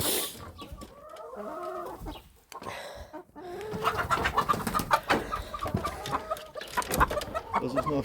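Chickens cluck and squawk close by, busy and continuous, with some flapping and scuffling noise mixed in.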